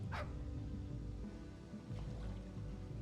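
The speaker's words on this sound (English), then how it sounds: "Was it dog? It had a dog noise." A short dog bark from the video game Cryptmaster comes near the start, then fades into a steady low droning game soundtrack.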